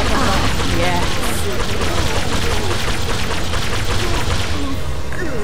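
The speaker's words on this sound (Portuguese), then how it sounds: "Nossa, tá dando tiro ainda." Dense, continuous gunfire and crashing impacts from the Orcs Must Die 2 video game fill the mix, loud and unbroken, with a player talking over the battle noise.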